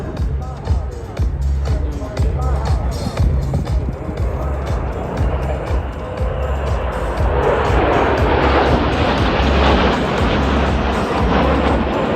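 Patrouille de France jets in diamond formation at the Paris Air Show 2023, a continuous jet roar that swells louder toward the end, heard under a French announcer's commentary amid crowd noise.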